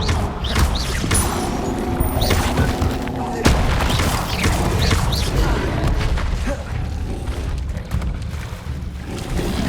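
A fire spell blasts in the Hogwarts Legacy game, a dense, loud roar of booming, crackling bursts with repeated whooshing flares over about ten seconds, with no voices.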